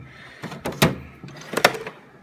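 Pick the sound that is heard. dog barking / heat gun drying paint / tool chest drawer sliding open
tool chest drawer sliding open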